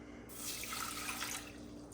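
Water is poured into a pot of pickle brine with mixed pickling spice, a soft steady splashing stream lasting about a second, faint and close.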